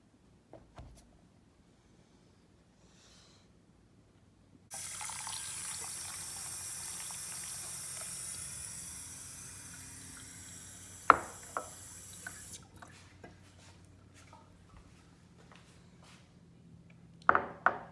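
Water is poured into a container over papaya seeds set to soak, a steady broadband rush for about eight seconds that fades and gives way to a few drips and small clinks.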